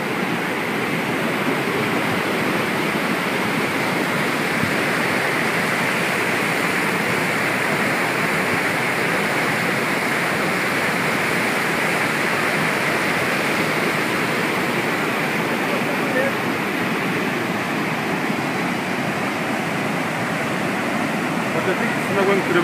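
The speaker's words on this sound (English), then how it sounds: "There's still a lot of water coming through." A river in flood rushes through the devastated area of Kasese, a dense, unbroken roar of churning water that stays loud and steady the whole time, with no voices heard.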